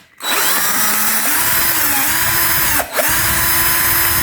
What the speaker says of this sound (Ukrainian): Тут в мене є шуруповерт трошки.